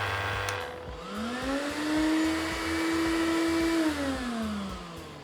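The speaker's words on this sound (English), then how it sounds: "The extractor has now switched on, and this battery and the Midi is now paired." A Festool CTMC Midi cordless 18V dust extractor running with a sander, a steady close motor whir that rises in pitch as it spins up, holds, then winds down, accompanied by a rhythmic pulsing hum.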